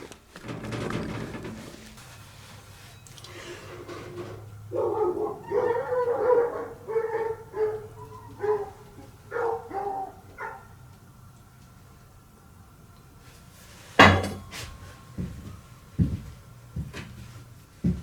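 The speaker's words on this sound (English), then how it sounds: "Anytime my neighbor makes noise, anytime I make noise, those dogs go nuts." Neighbouring dogs bark in a yard during a home-built two-stroke yard kart project: a series of sharp barks and yips, moderately distant, with a short whimper, coming in uneven bursts over low background noise.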